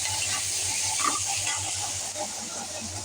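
Chayote stems frying in a pan with salt and turmeric, a steady soft sizzle and hiss with light stirring scrapes, fairly quiet and continuous throughout.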